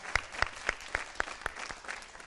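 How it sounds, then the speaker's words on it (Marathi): Audience applause at a Marathi stage show honouring a poet, heard as a series of regular, fairly faint claps about four per second, without voices. "ते गोविंदाग्रज यांच्यासाठी एकदा जोरदार टाळ्या."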